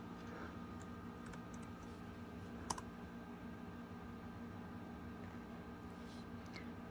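Someone types a password on a 2012 MacBook Pro keyboard, giving soft, light key clicks with a single sharper tap partway through, all under a steady background hiss in a quiet room.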